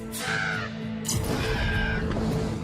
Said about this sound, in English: They're ravens and crows.